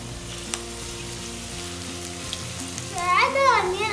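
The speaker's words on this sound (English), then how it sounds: "Fry the onion until they're light golden and brown" Onions fry in hot oil with a steady close sizzle and crackle, joined near the end by stirring and scraping sounds in the pan.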